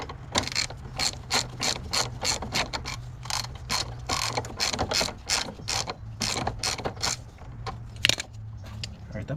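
A ratchet wrench tightens a car suspension bolt during a budget suspension replacement, giving a steady run of close, sharp clicking strokes over a low hum.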